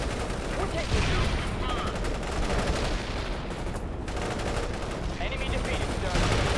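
Dense, continuous gunfire and explosions fill a battle in the video game World in Conflict: Soviet Assault, with rapid bursts layered over a loud roar of combat.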